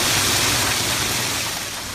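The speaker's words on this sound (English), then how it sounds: "You can hear that hail pounding down onto the ground and thunder even off in the background" Hail pounding down onto the ground during a nighttime cluster of thunderstorms in the El Dorado Hills foothills, a loud, steady dense roar of impacts filling the whole stretch, with no distinct thunder standing out.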